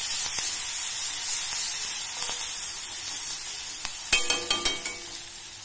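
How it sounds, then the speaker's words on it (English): Ginger garlic paste and chilies sizzling in hot oil, a steady hiss with a series of sharp scraping clinks from a spoon stirring near the end, close and fairly loud, no talk. "we will add in the ginger garlic paste. And after the ginger garlic paste, in will go the chilies."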